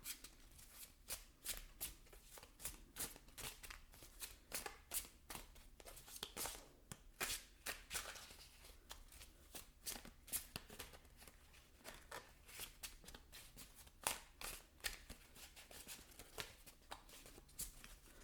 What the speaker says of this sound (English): Probably shuffle and lay out all your cards